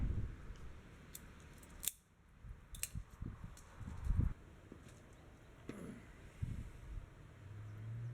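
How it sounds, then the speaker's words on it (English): All-in-one wire strippers snip and strip a kill switch wire on a Wheel Horse 704 tractor, giving a few sharp, close clicks and cuts against quiet background noise. "I got these fancy wire strippers that does everything all in one motion."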